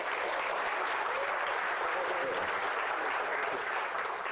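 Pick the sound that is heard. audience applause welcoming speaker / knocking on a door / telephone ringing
audience applause welcoming speaker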